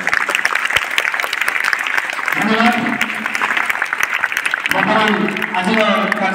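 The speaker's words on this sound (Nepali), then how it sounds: "जोरदार करताली मारा धन्यवाद" Loud applause from a school audience at a Boita Bandana celebration for Kartik Purnima in Odisha, dense clapping throughout with voices and singing rising over it partway through.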